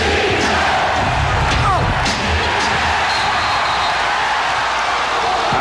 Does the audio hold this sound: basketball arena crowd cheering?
yes